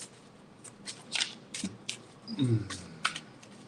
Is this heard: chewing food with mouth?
no